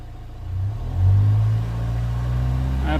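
A 2015 Vauxhall Vivaro 1.6 CDTi diesel van engine revs up from idle, rising to a loud peak then settling into a steady, close, rumbling drone, with no talk.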